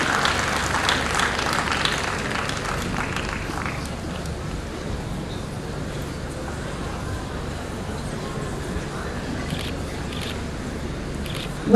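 Students at a junior college graduation day applaud steadily in a large hall, a dense wash of clapping that stays at an even level throughout, slightly fuller at the start.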